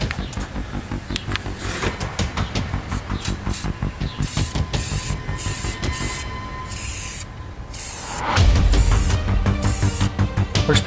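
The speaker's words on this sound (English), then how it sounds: "I'm just going to go ahead and see how well it sprays" Cerakote coating sprays from a Preval sprayer onto cardboard in a series of close, loud hissing bursts with short pauses between them, and the final spray runs longer and stronger.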